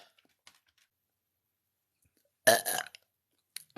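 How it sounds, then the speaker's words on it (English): A woman burps once, a loud, throaty belch after hot wings and hard cider, alone in an otherwise quiet room with a few faint clicks around it. "I was having some good burps"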